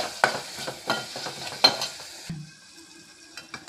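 A spoon stirs ginger paste into a cooked-down tomato and onion mixture in a pan, giving several uneven scraping strokes and soft clanks against the metal under a low sizzle, with a quieter frying hiss near the end.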